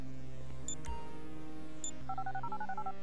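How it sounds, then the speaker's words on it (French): A GTA V mobile phone is pulled up: a few sharp electronic clicks and short beeps, then a quick run of rhythmic two-tone keypad bleeps, close and clear with no talk. "Je fais apparaître mon téléphone."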